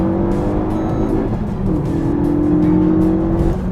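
A 2015 Renaultsport Megane 275 Trophy engine with a titanium Akrapovic exhaust drones deep and throaty at steady revs, with a slight dip and swell in pitch, close by.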